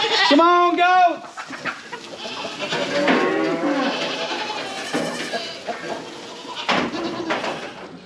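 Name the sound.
goats bleating on a goat farm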